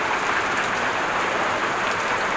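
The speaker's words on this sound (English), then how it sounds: "Well, still raining." Heavy rain in Groningen falling steadily, a dense, continuous hiss of drops splashing on hard surfaces and puddles, close and even, with no talking.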